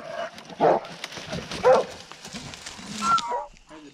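Coonhounds bark and bay in a few loud bursts spaced about a second apart, with faint whimpering between, fairly close in an outdoor setting during a night hunt.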